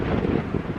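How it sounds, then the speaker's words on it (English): Strong wind at the Grand Canyon buffets the microphone in a dense, low rumbling roar with gusty surges, loud and close throughout a brief moment. "The wind is blowing 100 miles an hour out here."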